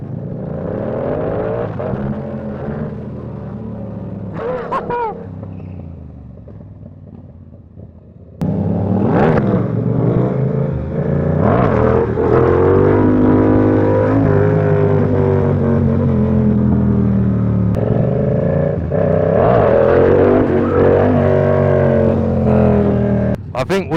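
A sport motorcycle on a London night ride accelerates hard in first gear for a power wheelie, its engine climbing in rising revving sweeps, loud and close, with riders talking over the noise.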